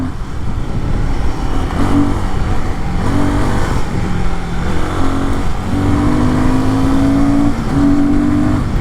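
A Royal Enfield or Triumph motorcycle engine on a test ride drones loudly and steadily, with rising and falling pitch as the rider accelerates through the gears.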